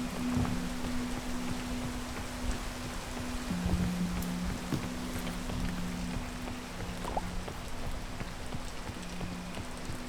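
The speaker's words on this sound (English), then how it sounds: "I get down in here and it's immediately raining" Steady rain pours across a video game map, a dense even hiss of drops on surfaces with faint low hums underneath, no talking.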